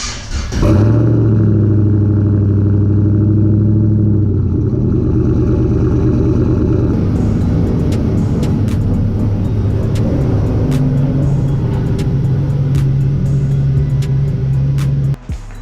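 A K-swapped EG hatchback's engine idles loudly and steadily, then changes pitch as the car pulls out of a garage, close and dominant throughout with some clicks and knocks.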